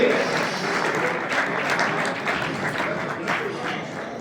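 An audience at a motorsport awards ceremony claps steadily and warmly for a driver, with dense, even applause throughout and an announcer's voice faintly underneath.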